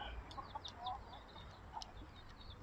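Chickens cluck softly in a home garden in the evening, giving faint, scattered, brief calls over a quiet background.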